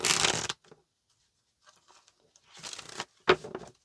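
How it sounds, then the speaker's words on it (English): Quick papery riffles and snaps of tarot cards being shuffled, several short bursts separated by brief quiet gaps, close and crisp. "Let's get one more shuffle."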